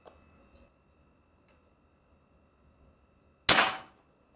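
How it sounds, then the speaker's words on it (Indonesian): A single sharp, loud crack from a Combat Laras Yumaja air rifle fired at long range, preceded by a couple of faint clicks and quiet room background. "10 kali tembakan saja ya."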